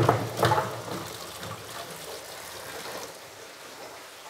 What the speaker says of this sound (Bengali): চলো ভেন্ডিগুলোকে ভালো মতো ধুয়ে নিচ্ছি প্রথমে।